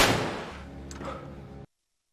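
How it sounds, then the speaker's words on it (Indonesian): A single gunshot from the Korean drama series Squid Game season 2, fired inside a motel: one sharp, loud report at the start that decays over about a second and a half, then cuts off. "Juno berhasil menemukan lokasi motel Gi-hun dan ia pun langsung masuk usai mendengarkan suara tembakan"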